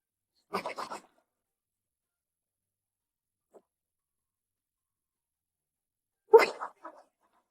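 A dog sneezes on command, two short snorting bursts several seconds apart with a tiny faint sound between, close and otherwise quiet.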